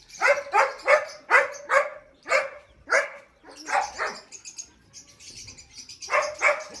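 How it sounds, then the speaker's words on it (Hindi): A small dog barks in a rapid, insistent series of close, loud yaps, with a short gap and then more barking near the end. "बहुत बोल रहा है ये कुत्ता, बहुत बोल रहा है"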